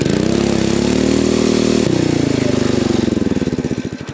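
A Coleman BT200X mini bike's small engine revs hard and close, holding a loud, rapid throbbing drone before its pitch shifts and the pulses slow as it winds down, with no talking.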